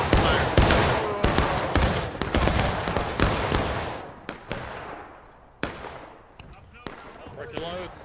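Repeated musket volleys crack out on command in a War of Rights Civil War battle, loud sharp bursts rolling across the field in uneven clusters with scattered single shots between them, while players talk over the gunfire.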